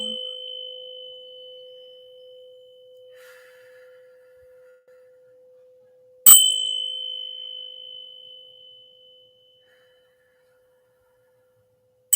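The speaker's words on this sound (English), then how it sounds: "And the bell." A bell struck once midway, ringing out clearly and decaying slowly, following a long, fading sustained tone at the start.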